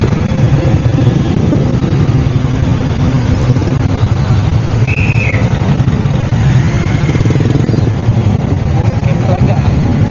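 A Honda motorcycle engine idles steadily nearby, a continuous low rumble throughout, with faint voices talking in the background.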